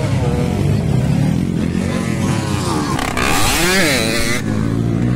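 An enduro motorcycle in the final heat of a local race roars up close, loud and continuous, with its engine revving and pitch sweeping up and down.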